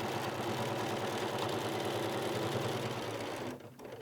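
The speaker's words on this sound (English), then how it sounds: "you're going through less layers if you stitch it directly to the quilt" A sewing machine stitches binding directly onto a quilt, running with a steady rapid mechanical whir up close before stopping near the end.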